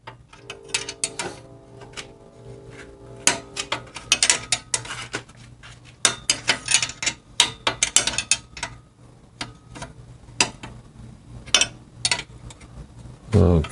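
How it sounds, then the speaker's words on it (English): A short wrench working a fastener on the exhaust of a Harley Shovelhead, giving irregular bursts of rapid metallic ratchet clicking and tool clatter, close by, with a low hum underneath and no talk. "I have a short wrench I use in here"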